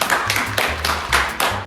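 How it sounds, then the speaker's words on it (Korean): A few quick bursts of hand clapping, close and crisp, in an uneven rhythm of about six claps. "박수!"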